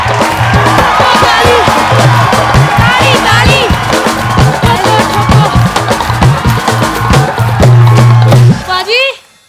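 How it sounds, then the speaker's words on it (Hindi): A studio audience at the Kapil Sharma comedy show claps and cheers loudly, with shouts and whoops mixed into a busy wash of voices and music that cuts off abruptly near the end. "सिद्धू कहंदा ठोको ताली, ठोको ताली, ताली ठोको, ठोको ताली, ताली ठोको।"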